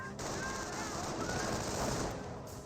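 Rifle fire from Riflemen and Grenadier infantry squads in a Company of Heroes battle, a steady crackle of overlapping shots with distant impacts, fairly loud throughout.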